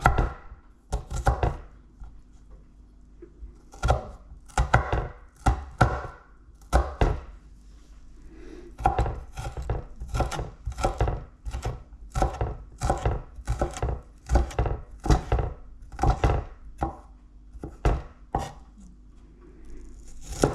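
Potatoes chopped with a knife on a board, a long run of sharp, evenly spaced knocks that quicken in places, close and crisp against a quiet background with no speech.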